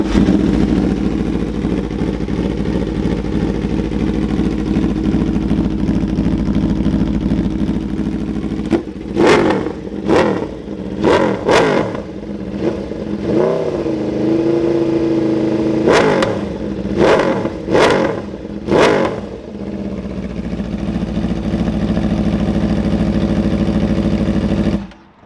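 A 2020 Aprilia RSV4 superbike with a 2-into-1 carbon exhaust idles loudly and close up, then fires a series of sharp throttle blips and one longer held rev before settling back to a steady idle.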